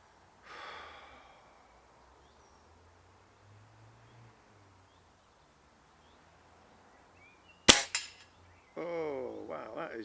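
A single sharp report from a 52-year-old rifle fired at a centre target 30 yards away, cracking out loud and alone after quiet breathing, with a heavy breath or exhale just after.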